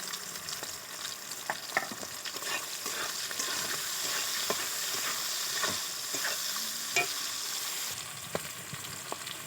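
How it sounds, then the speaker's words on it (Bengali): Chopped onions frying in oil with whole garam masala for a home-style chicken and potato curry, a soft steady sizzle broken by scattered scraping clicks of a spatula as they're stirred. "পেঁয়াজ কুচিটা দিয়ে দিলাম দিয়ে এটাকে নেড়ে চেড়ে ভেজে দেবো"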